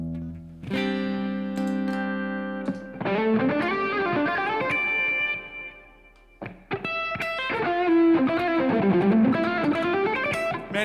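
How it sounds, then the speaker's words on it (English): An electric guitar plays through effects, bright sustained notes and quick melodic runs with a short pause midway, loud and close. "Get some tones on the old guitar."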